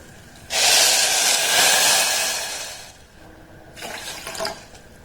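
Water pours steadily from a cup onto sugar in a pan for syrup, a loud continuous splashing that stops, followed by a shorter, fainter trickle.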